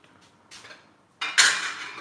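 Potatoes being mixed in a bowl with a drop of ghee give a couple of short scraping, clattering bursts, the second louder and longer, close by in a quiet kitchen.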